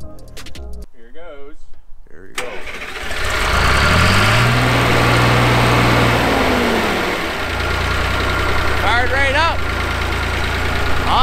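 Engine of an old 1968 Atlas excavator starting and running, a loud close diesel rumble that settles into a steady idle with knocking, while someone talks over it at the start and end.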